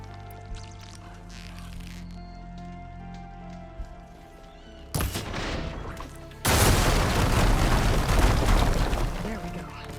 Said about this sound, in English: I can make that fall if I shoot the weak point.